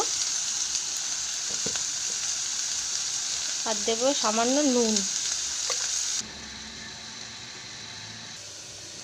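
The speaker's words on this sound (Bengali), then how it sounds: "কড়াইতে তেল দিয়ে আলুটা একটু ভেজে নেব" Potatoes sizzle steadily in oil in a wok, with a brief stirring clink and a short stretch of someone talking over the frying.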